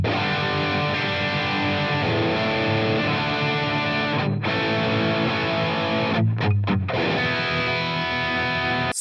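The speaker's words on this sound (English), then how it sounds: "the M160 is also a really great sounding mic, and it sounds like this." Heavily distorted electric guitar through a Friedman-style amp model on a Line 6 Helix, captured with a modelled M160 microphone, strumming thick sustained chords loudly with a few brief choked gaps, no talking.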